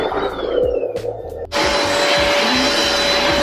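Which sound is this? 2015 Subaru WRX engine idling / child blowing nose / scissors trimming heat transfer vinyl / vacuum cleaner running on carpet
vacuum cleaner running on carpet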